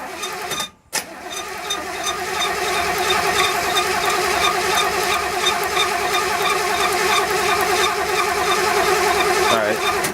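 Chevelle engine cranking over on the starter during a rebuild, a steady rapid churning rhythm that runs loud and continuous after a brief pause near the start, with no sign of it firing.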